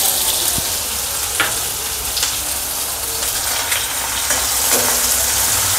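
Onion frying in hot oil with cumin, curry leaves and green chili, a steady loud close sizzle and crackle with faint occasional clinks of a spoon.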